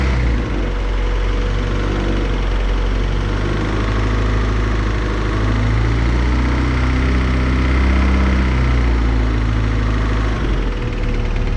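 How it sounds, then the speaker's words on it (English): Steady, loud engine drone from a car with 19 psi of boost and a damaged transmission, the rough transmission whine running continuously under the engine without a break and with no talk. "it has a quite awful sound to it, but it's coming from the transmission side of things"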